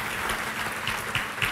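Church congregation clapping during a service, a short burst of dense, close applause with scattered sharper claps and no talking.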